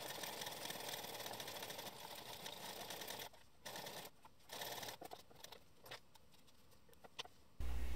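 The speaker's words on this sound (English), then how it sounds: "we'll sew our two brim facings with a 1 cm seam allowance." A sewing machine stitches two fabric brim facings of a cycling cap together at a 1 cm seam allowance, giving a steady near whir for about three seconds, then short stop-start bursts with pauses between them.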